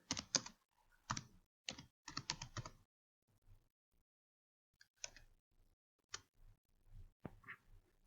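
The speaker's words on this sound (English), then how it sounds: "Type in keto diet." A search query is tapped out on a computer keyboard in quick bursts of crisp key clicks with short pauses between them, close by and fairly quiet, with no talking.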